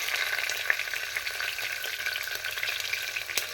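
Moong dal and green chilies sauté in a pan for a wheat upma, a quiet, continuous sizzle with faint stirring clicks throughout and no one talking.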